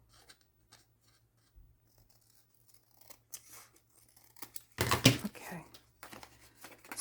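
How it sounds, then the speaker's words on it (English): Scissors snipping through paper while making a junk journal folder, a few light close cuts followed by a louder crisp burst of cutting and rustling, with faint talk under it. "let me cut this piece"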